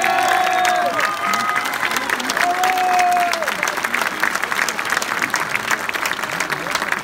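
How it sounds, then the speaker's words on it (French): Audience applause at a concert by a band, a loud steady clapping from the crowd throughout, with someone speaking over it in the first few seconds. "un tonnerre d'applaudissements pour lui"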